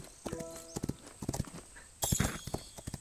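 Hooves clip-clop in a quick, uneven patter from the horses in the Rival Stars Horse Racing game, with a short whinny near the start and a louder burst of hoofbeats and clatter later on.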